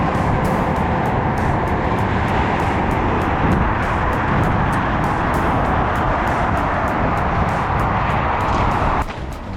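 Freeway traffic near La Cañada Flintridge, California, a loud steady roar of passing vehicles close by with repeated sharp ticks on top, easing slightly at the very end.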